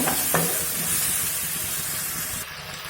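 Tomatoes sautéing in oil in a pan for sambar, a continuous close sizzle and hiss with a couple of soft spoon scrapes near the start and a brief clatter near the end, no voices.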